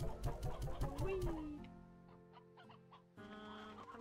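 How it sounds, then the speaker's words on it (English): Chickens in the video game Slime Rancher 2 cluck in a rapid, rhythmic run of short calls, then give a few scattered, quieter clucks over soft game music. "We got quite a few chickens."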